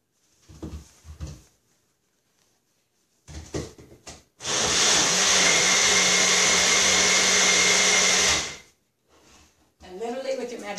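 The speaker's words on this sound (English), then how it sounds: "I used my magic bullet." A Magic Bullet blender whirs steadily for about four seconds, mixing dog treat ingredients, loud and close, with brief talk and handling noises before and after the run.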